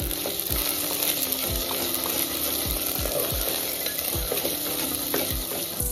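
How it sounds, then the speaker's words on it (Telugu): Potato pieces fry in butter in a pan with a steady sizzle, while a spoon scrapes and knocks against the metal in a regular rhythm roughly every half second. "ఇప్పుడు ఈ బటర్ కూడా వేసి కొంచెం సేపు వేయించేసుకోవాలి."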